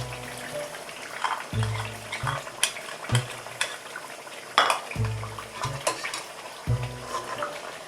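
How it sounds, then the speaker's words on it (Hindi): Onion and yogurt masala fried and stirred in a pan for potato and egg curry, with soft sizzling under repeated scraping and clinking spoon strokes against the pan, close and steady without talk. "मसाला हमारा अच्छी तरह से भून गया है"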